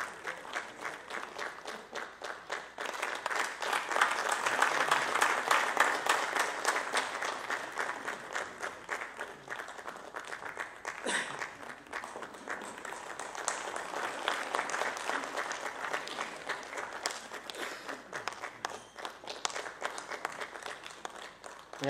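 Audience at a Gwala Diwas celebration and Milk Man of the Year award ceremony applauds warmly, a sustained wash of many hands clapping that swells and holds for about twenty seconds without pause.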